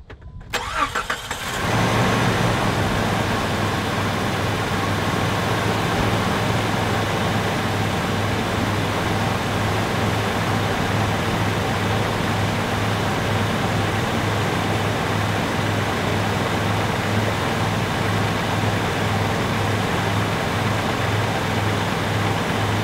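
A 2002 Jeep Grand Cherokee with a new idler pulley and belt cranks briefly and catches, then settles into a steady, loud, even idle that runs on alone without talk.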